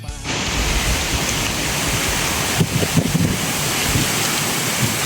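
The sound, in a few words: strong wind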